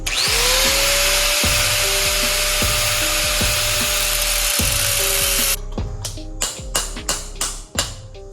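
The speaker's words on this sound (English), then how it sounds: "So I'm just gonna use my cutoff wheel on my grinder." An angle grinder's cutoff wheel slices a slot into a wheel bearing race during a rear disc brake conversion on a 1997–2001 Honda CR-V, a loud steady high whine over rhythmic ticking that stops abruptly, followed by a few sharp knocks.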